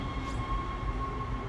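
A tram in the video game Dead Space hums and rumbles steadily with a faint high whine, a short continuous mechanical drone with no talk.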